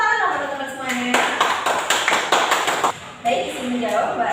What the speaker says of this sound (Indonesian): Tepuk tangan dong teman-teman semuanya.